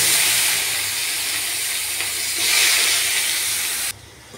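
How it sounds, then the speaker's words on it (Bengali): Nigella seeds and chopped onion hit oil left from frying rui fish, giving a loud, steady hiss that swells slightly midway and then drops off abruptly near the end, with no voices. "মাছ ভাজার তেলে আমি দিয়ে দেবো কালো জিরে আর কুচনো পেঁয়াজ।"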